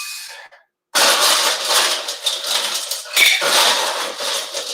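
Cocktail shaker rattling hard with ice for drinks, a continuous loud jangling shake that runs after a brief quiet pause, with clinks and a short break midway.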